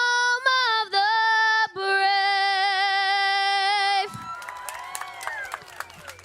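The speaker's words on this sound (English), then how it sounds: "How about a round of applause again, please, for Taylor?" Crowd in the stands at the MRO Better Half Dash, a race event, breaking into cheers and scattered claps after a sustained final note of the national anthem, a broad rising roar with individual claps.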